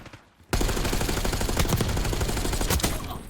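A decoy grenade in Call of Duty: Black Ops 6 multiplayer bursts into loud simulated gunfire, a rapid rattling string of shots that starts abruptly after a brief quiet moment and runs on steadily.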